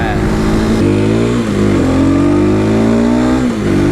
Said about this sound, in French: On sent le moteur un peu plus efficace dès qu'on a passé les 6000 tours